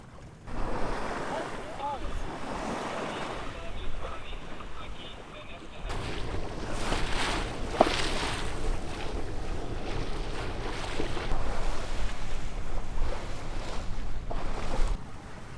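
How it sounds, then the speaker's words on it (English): A sailboat beating upwind through waves, with the rushing and slapping of water against the hull under heavy wind noise, continuous and fairly loud throughout, with a brief lull partway through. "we love upwind sailing, don't we?"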